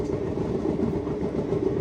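A train crossing snowy Kashmir between Srinagar and Banihal sends up a loud, even rolling rumble with soft clickety-clack from the wheels, heard alone in a short stretch.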